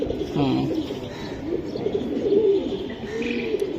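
Cooing from a female pigeon kept with loft-flown Bengali pigeons, soft repeated low coos close by with a few chirps mixed in, no talk.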